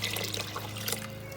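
About two cups of water pours steadily into a pot of cooking beans, making a continuous close trickling, splashing sound over a low kitchen hum.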